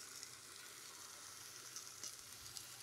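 Food sizzles steadily on a large outdoor grill at a Labor Day cookout, a faint continuous hiss with no talking.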